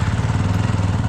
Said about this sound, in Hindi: तो जल्दी से अपनी बाइक को स्टार्ट करके चेक कर लेता हूँ